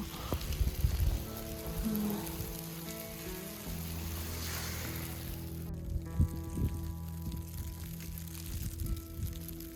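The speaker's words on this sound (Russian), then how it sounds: "Снова пошел какой-то снег-дождь, непонятно что" Sleet falls in a steady, fine crackling patter on surfaces during winter ice fishing, continuous and fairly soft, with a low hum in the background.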